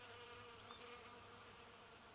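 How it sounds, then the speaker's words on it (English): Soft ambient bees buzz continuously with a faint, steady insect hum that sits low in the mix. It serves as background ambience for a Dungeons & Dragons tabletop session, with no voices over it. "Is that bees?"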